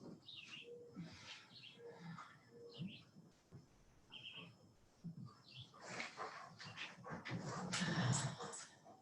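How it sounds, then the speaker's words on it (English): A pet dog makes noise during a yin yoga class, a few short yips and whines close by, blending with soft room sounds and growing louder toward the end. "my dog is not cooperating this morning"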